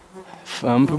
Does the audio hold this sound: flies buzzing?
yes